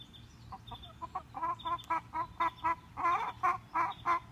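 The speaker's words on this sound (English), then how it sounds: "the chickens hear me talking, so they're going to talk back" Chickens cluck repeatedly in a steady series of short calls, close by, with a low hum underneath and no talking.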